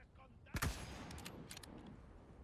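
A gunshot rings out in the PS5 game Resident Evil 4, one sharp loud blast followed by a few lighter rapid cracks and a lingering noisy tail.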